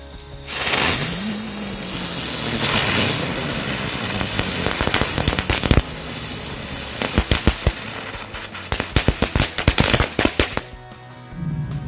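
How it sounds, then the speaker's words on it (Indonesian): Lotus flower firecracker set off at night during the fasting month, a whooshing ignition followed by a rapid string of sharp cracking bursts that grow denser and louder toward the end before stopping abruptly. "yang selanjutnya kita nyalakan mercon bunga teratai"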